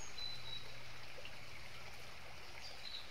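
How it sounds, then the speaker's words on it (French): Flowing river water gives a constant gentle burble and hiss, steady throughout and quiet, alone without speech. "Et tel que vous entendez la rivière"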